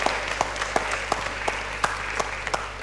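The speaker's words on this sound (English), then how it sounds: "Please, a big applause." A small audience at the close of a conference talk claps in sparse, evenly spaced hand claps about three per second over a constant low room hum.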